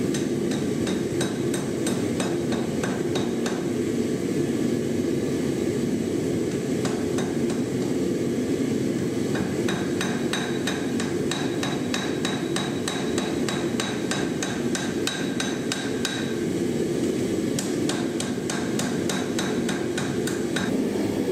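A 4.5-pound short-handled sawmaker's hammer strikes a forged seax blade on the anvil while the edge bevel is drawn out, giving steady, loud, rapid metallic blows that repeat throughout against a constant background hum.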